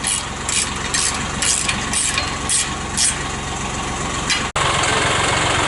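John Deere 5075 tractor engine idling nearby on a ranch, a steady loud mechanical chug with a rhythmic pulse that continues throughout, interrupted by a brief sharp click before carrying on.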